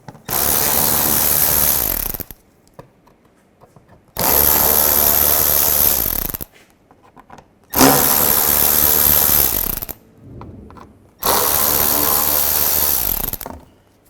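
A powered ratchet takes out the panel screws on a 2005-10 Volkswagen Jetta, with four loud, sustained whirring bursts of about two seconds each, separated by short pauses, close up and with no talking.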